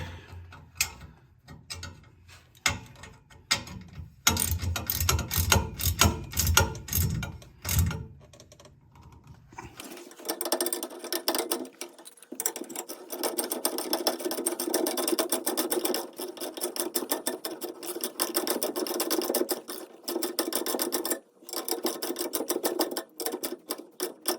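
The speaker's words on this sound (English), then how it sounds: "next we'll tighten up this front pipe" A ratchet tightens the front exhaust pipe on a tractor, rapid clicking bursts in quick runs, then a longer stretch of steady ratcheting, close up with pauses between strokes.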